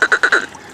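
A person imitates a frog with their voice, four quick nasal croaking pulses in a tight rhythm, loud and close, then a brief pause.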